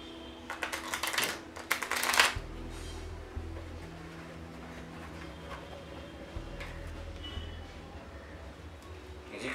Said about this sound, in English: The cheat can palm cards while he shuffles the deck,